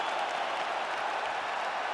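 A virtual arena crowd in EA Sports UFC 5 cheers and applauds after a fight goes the full 25 minutes. The roar and clapping are dense and steady, with no gaps, and fill the whole space at a fairly loud level.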